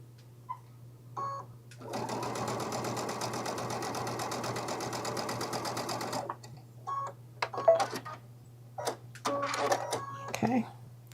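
A sewing machine stitches quilt binding in a steady, loud run of about four seconds, then gives a few short bursts as the needle is backed up, with a low constant hum throughout.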